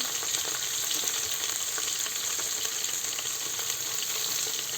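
Onion, tomato and chilli fry in oil for masala rice, a bright, dense, unbroken sizzle with faint crackles, close and steady throughout with no talking.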